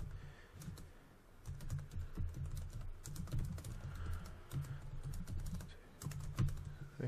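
Steady typing on a computer keyboard while program code is edited, with quick irregular key clicks in bursts, clear and close, and no voices.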